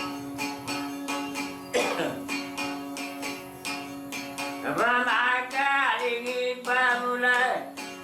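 A man sings a greeting song over a sustained plucked lute in Mandar, Sulawesi, broken twice by his own loud, harsh bursts of heavy coughing.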